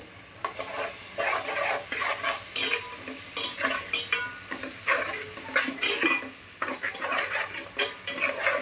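Ginger paste and turmeric powder stirred into hot oil in a pan for a korameenu fish curry, a continuous sizzle under brisk, close scraping and clinking of a spoon against the pan in irregular bursts.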